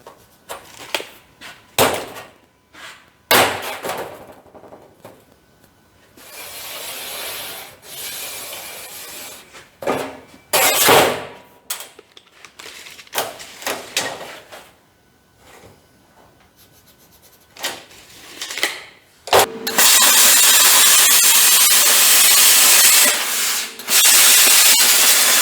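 A metal fuel tank strap for a 1940 Chevy coupe is cut in short, harsh, scraping bursts separated by pauses, ending in a sustained loud hiss of cutting.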